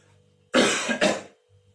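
A teacher gives two quick, loud, close coughs in a row during a class lecture, with a quiet room before and after.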